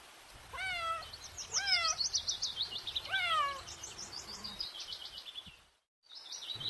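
Several drawn-out cat meows rise and fall one after another, close and clear, with faint bird chirps in the background.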